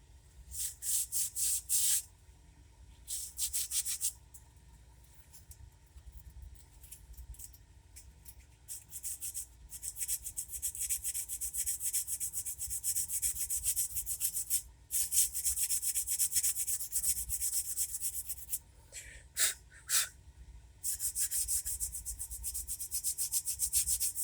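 The body of an O scale articulated passenger car is sanded smooth by hand in long bursts of close, hissing back-and-forth rubbing, broken by brief pauses and a few short quick strokes, with no talk.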